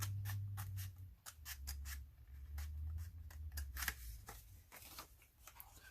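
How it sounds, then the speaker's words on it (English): Repeated crisp snips of scissors cutting through paper, a quick irregular series of sharp clicks close up, over a low steady hum. "Then I use the scissors to cut it out."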